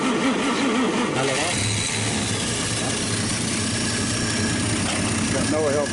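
An old car engine, a 1951 Studebaker or 1948 Nash, chugs and idles roughly just after being choked, a steady low rumble filling the whole stretch with faint voices mixed in.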